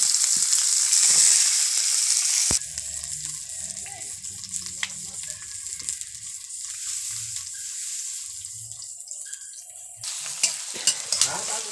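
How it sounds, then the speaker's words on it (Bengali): Spices and onion-tomato masala being stir-fried for a chicken curry, a steady sizzle with scraping stirs close by, broken by a louder burst of hissing at the start and end. "মাংসের তরকারি চাপাবে, তার জন্য এইবার সব এক এক করে মশলাপাতি কষে নেবে।"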